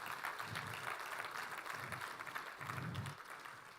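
A church congregation applauds the Lord, with steady, fairly dense clapping throughout and a few pulsing swells before it begins to fade.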